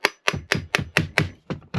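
A hammer taps the hard plastic cover of a Miele Complete C2 vacuum cleaner eight times in a steady rhythm, each strike sharp and close with a short ringing tail.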